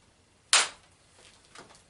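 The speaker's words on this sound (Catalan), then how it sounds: "simplement vaig a pegar un colp aquí dalt per a intentar extreure aquesta fulla d'aquí." A single sharp crack of a stone hammer striking flint to knap off a Palaeolithic-style blade, loud and close, followed by faint clinks of the flint settling.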